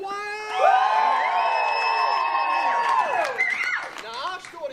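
An audience at an outdoor Epcot World Showcase Players comedy performance cheers and whoops, a loud burst of mixed voices rising near the start and staying lively before tapering off into scattered shouts.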